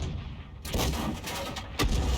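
Heavy artillery fire in a tank battle video game, aimed at a T1 heavy tank: a sharp loud blast near the start, a second boom toward the end, and rumbling battle noise between, no talk.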